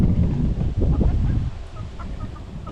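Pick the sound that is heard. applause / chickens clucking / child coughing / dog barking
chickens clucking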